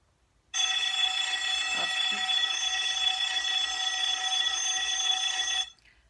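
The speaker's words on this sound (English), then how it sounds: "The shelter has an alarm system that sounds like a bell in the case of an emergency" A loud, continuous electric emergency alarm bell in a shelter rings steadily for about five seconds, then stops abruptly.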